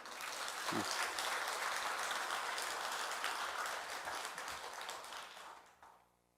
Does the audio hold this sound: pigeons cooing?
no